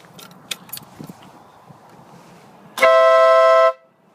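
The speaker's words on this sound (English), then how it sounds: "let me first I'll honk the horn" A single loud horn honk from a 1983 Honda CB650 Nighthawk bobber lasts about a second, after some quiet clicking and handling noises.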